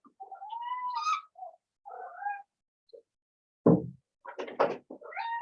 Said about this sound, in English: Excuse the cat that's come to join us.